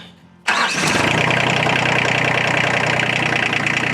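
After a brief quiet moment, a TYM T25 tractor's diesel engine cranks and catches once the glow plugs cycle off, then settles into a loud, steady idle close by.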